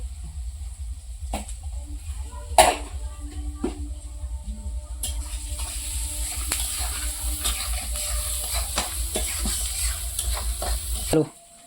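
Maggi masala with turmeric and salt sautéing in a pan, a steady sizzle running under repeated scraping and stirring strokes, with occasional sharper knocks of the spoon against the pan throughout.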